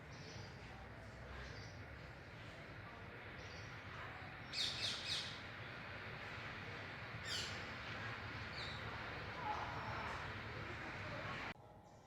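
Birds squawking and chirping in a bird park inside Gulab Bagh garden in Udaipur, a few short sharp calls rising over a steady outdoor murmur of distant background noise, fairly faint overall.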